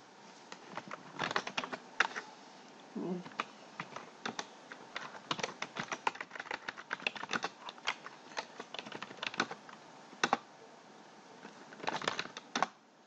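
Keys clatter on a computer keyboard in irregular bursts of quick taps with short pauses between, close and fairly quiet, with no one speaking.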